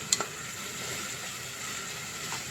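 Country chicken curry fries in generous peanut oil, making a faint, even sizzle with a couple of soft clicks from stirring near the start.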